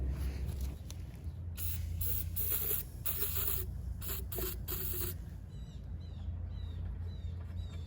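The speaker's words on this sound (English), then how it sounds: "spray in some fogging oil" Fogging oil is sprayed from an aerosol can into the spark plug hole of a small engine while winterizing equipment in a shed: several short hissing bursts close by, separated by brief pauses, with no talking.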